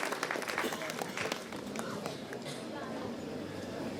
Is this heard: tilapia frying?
no